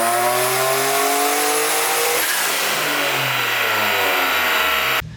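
A Nissan 350Z fitted with an eBay turbo kit revs hard through a pull, its loud engine note climbing in pitch, then dropping and rising again before cutting off at the end.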